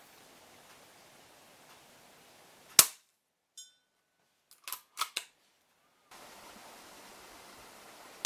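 Weihrauch HW100 KT laminate air rifle fires a single sharp, loud crack, followed moments later by a few quieter clicks and snaps close by, with steady low background hiss before and after.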